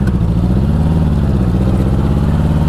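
A 1984 Honda Goldwing motorcycle engine runs steadily while being ridden, its low continuous drone holding even and close throughout with no talk over it.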